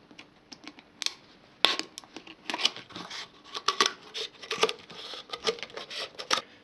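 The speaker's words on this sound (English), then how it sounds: "then move over to a pair of scissors." Scissors snip through the bottom of a plastic bottle in short, sharp, irregular cuts, each a crisp crackling crunch heard up close with no voices.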